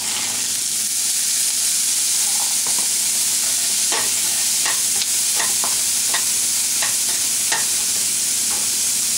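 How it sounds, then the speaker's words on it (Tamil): Red pepper, peas, carrots and beans sizzle steadily in a hot pan with a constant hiss, punctuated by repeated clinks and scrapes of a spatula stirring. "நல்லா வதக்குங்க."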